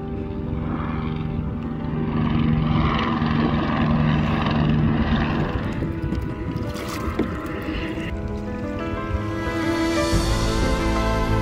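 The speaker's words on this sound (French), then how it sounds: "Ah, il y a l'hélico qui nous arrive dessus." A helicopter's rotor and engine drone loudly overhead in Mayotte, a steady thrumming roar that holds throughout.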